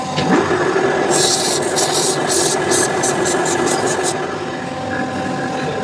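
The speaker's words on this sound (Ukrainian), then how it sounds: "Наждачечкою зачищаю місце, по якому буду виставлятись." Sandpaper rubbing on the surface of a Zhiguli car flywheel, a burst of quick rhythmic scratchy strokes over a steady machine hum, close and fairly loud, fading back to the hum.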